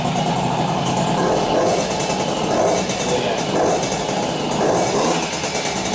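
A Peugeot Fox 50cc two-stroke moped engine runs close by in a continuous buzzing drone that swells gently in a few mild rises of throttle, with no clear talking over it.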